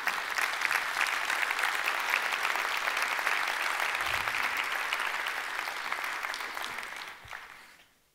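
An audience at a 2024 New Year greetings ceremony applauds in steady, dense clapping that carries for about seven seconds before tapering off at the end.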